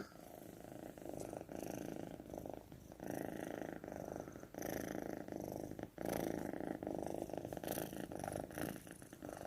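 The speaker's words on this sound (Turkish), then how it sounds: "Bu da kedi hırlaması" A cat purrs close up, a soft rhythmic rumble pulsing with each breath, continuing steadily for several seconds.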